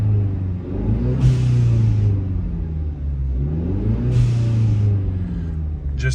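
A Ford Mustang EcoBoost engine with a newly installed intercooler idles in park, a steady low rumble that swells twice as the revs rise briefly, heard up close without talk.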